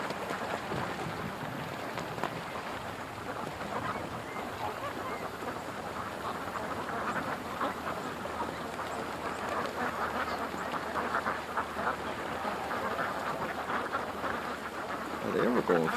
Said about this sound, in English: What are you doing over there, little ducks?